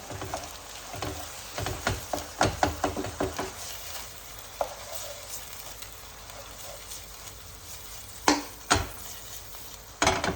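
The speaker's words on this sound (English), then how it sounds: "the wine is starting to cook down" Wine simmering down in a pan while cooking sauce for Sicilian arancini, a steady soft sizzle broken by intermittent clinks and scrapes of a utensil against the pan, with a few sharper knocks near the end.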